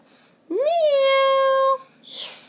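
A human voice imitates a cat's meow during a children's story about a lonely firefly: one long, drawn-out meow with a rising then level pitch, close and loud, followed by a brief breathy sound.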